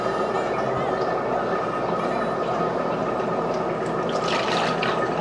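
Water pours in a steady, rushing stream into a fish tank, a continuous splashing fill with no pauses.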